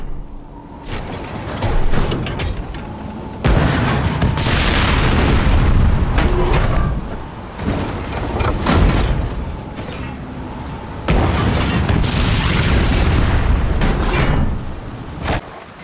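Cannon fire in the naval game Skull and Bones: heavy booming blasts in several long, loud bursts with mechanical clatter and rumbling between them, no talk heard.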